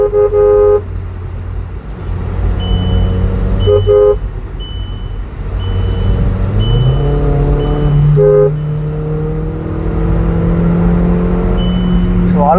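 Modified Volkswagen Polo GT TSI shifted into sport mode, engine note rising and falling through quick gear changes with a few brief tonal chirps, close and loud inside the cabin.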